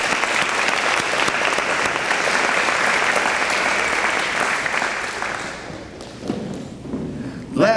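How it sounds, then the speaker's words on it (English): Applause for the parents at a Speedway High School top ten recognition ceremony, with a large crowd clapping steadily and loudly before it thins and fades out near the end. A voice and a thump follow after it. "Round of applause for the parents."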